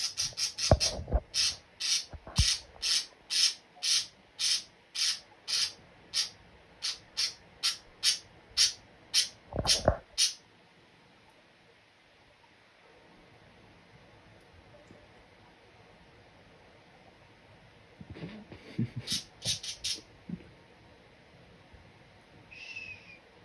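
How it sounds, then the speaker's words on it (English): Birds in the video game Prehistoric Kingdom call in a long run of evenly spaced, sharp hooting notes, then fall quiet before a few more calls return near the end. "enjoy the bird intermission"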